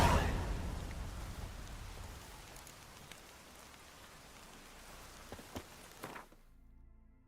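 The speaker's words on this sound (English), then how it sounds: "Maybe we needed a spot of rain." Steady rain falls in The Witcher 3, a dense close hiss of drops on surfaces with a few soft knocks near the end before it cuts off abruptly.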